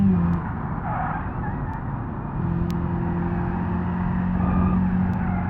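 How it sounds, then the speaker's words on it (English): Tires scrub and squeal on a racing car in a video game lapping the Nurburgring, a steady engine drone with a rising tonal whine layered over it, loud and continuous throughout. "Scrubbing the tires really hard there."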